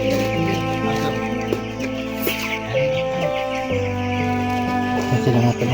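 Several chickens cluck around a rural family home, a dense layered mix of hen calls and fowl chatter that continues steadily throughout at close range.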